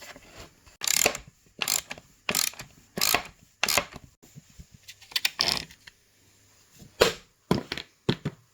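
A socket wrench, a 9x16 socket, ratchets a nut off a Scotty downrigger in repeated close, loud bursts of rapid clicking, with short pauses between strokes and no talking.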